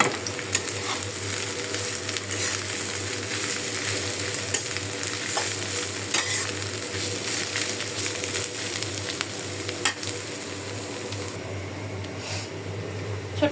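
Gourd greens stir-fried in a wok of oil with onion and garlic, a continuous loud sizzle with occasional scraping and stirring clicks, steady and close.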